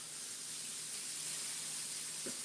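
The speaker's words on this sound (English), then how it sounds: "I'm coming over here with this canola oil, spraying them down." Canola oil sprayed from a can onto raw steak strips, a steady close hiss that runs the whole time, with a faint low thump near the end.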